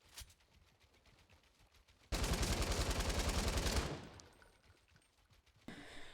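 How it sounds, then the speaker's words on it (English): Automatic weapon fire in Fortnite, a close, loud sustained spray of rapid rhythmic shots lasting nearly two seconds, followed by quieter game ambience and a second burst starting near the end. "I'm just trying to spray him out and then bang from behind he sprays me"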